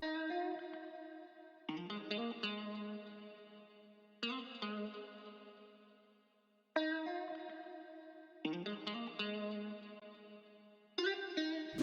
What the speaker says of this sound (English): So next I added the guitar.